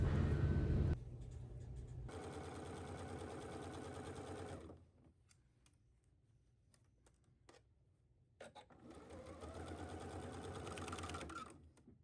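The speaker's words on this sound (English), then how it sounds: "Take this to the sewing machine and sew it at 5/8." A sewing machine stitches steadily in a fast, close mechanical whir, pauses for a few seconds with light clicks and handling, then resumes running.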